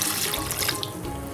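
Water pours steadily into a kadhai holding potatoes and salt, a continuous close splashing rush that runs unbroken for the whole moment with no voices.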